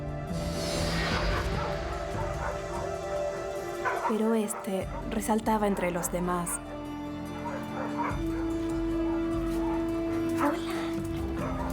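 Taz, a dog adopted from an animal shelter, gives a few short yips and soft whimpers near the microphone. Someone speaks over the sounds throughout.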